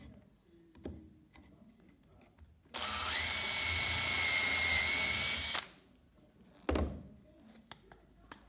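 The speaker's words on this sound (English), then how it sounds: "make sure you're holding the drill upright and drill" A power drill boring a 4.5 mm hole straight through wood for a foot stool, one loud steady whine of about three seconds rising slightly in pitch, with a few knocks and thumps before and after.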